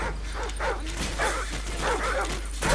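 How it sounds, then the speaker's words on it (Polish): Dogs in Call of Duty Modern Warfare bark and yelp in a quick series of sharp, excited calls over a low steady hum, fairly close and clear, with no one speaking. "O nie, psy!"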